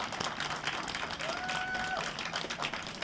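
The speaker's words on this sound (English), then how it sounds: "Yeah, let's clap, absolutely" An audience claps at the opening of a city tree nursery, a soft, steady patter of applause from a modest crowd, fairly faint and continuous throughout.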